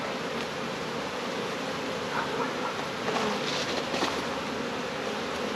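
Unsmoked honey bees buzz in a dense, steady drone inside an open hive as burr comb is scraped off, with faint scraping clicks rising briefly through the middle.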